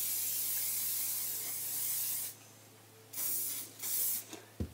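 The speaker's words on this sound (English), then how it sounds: "give it a little bit of hairspray." Hairspray sprayed onto styled hair: a steady aerosol hiss, then a few shorter close bursts separated by pauses, ending with a light tap.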